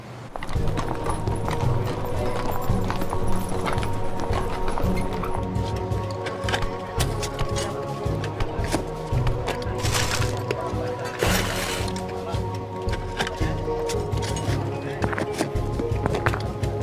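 Horse hooves clip-clop in a steady walking rhythm alongside rolling carts on an ancient road, with occasional sharp cracks and a constant low rumble beneath.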